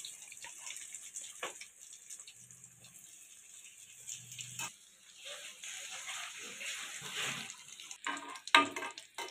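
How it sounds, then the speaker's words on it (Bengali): Egg devils deep frying a few at a time in hot oil in a home kitchen, a steady soft sizzle with occasional louder bubbling bursts and splashes, no talking. "অল্প অল্প করে ভাজবে, তাহলে সুন্দর করে খেলিয়ে ভাজা যাবে তেলের মধ্যে।"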